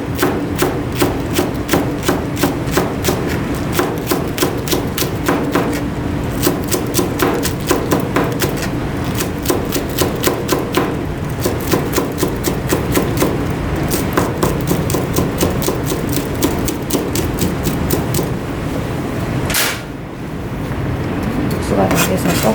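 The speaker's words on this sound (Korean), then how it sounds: "쫑쫑쫑쫑 한번 썰어 볼게요" A knife finely chops seasoning ingredients such as green onion on a cutting board, a fast, steady run of close, sharp taps lasting throughout, with a brief pause near the end.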